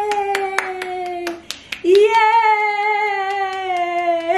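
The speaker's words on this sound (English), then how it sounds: "Anytime we clap, he claps too." A one-year-old baby boy claps his hands in a quick run of sharp, close claps, while an adult voice cheers loudly over and around them.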